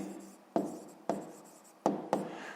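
A pen writes out a math solution in a few quiet, close strokes, each one a short scratch that trails off, with no talk.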